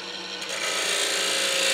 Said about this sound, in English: And clean the outside of the plank using a half inch spindle gauge.